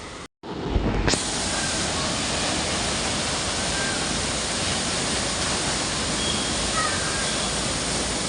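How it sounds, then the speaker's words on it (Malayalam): Steady, loud rush of a waterfall in Wayanad, Kerala, a dense unbroken roar that swells in after a brief quiet start and continues evenly with no voices. "മനോഹരമായ വാട്ടർഫാൾസ് കണ്ടോ."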